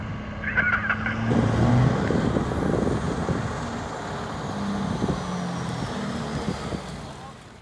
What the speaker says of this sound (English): My truck is revving out, and you guys can still hear my voice.